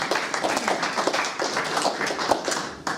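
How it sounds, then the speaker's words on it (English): Audience applause from a live event crowd, a steady patter of many hands clapping at moderate distance with no one talking. "please give a big round of applause to Andrew Allison"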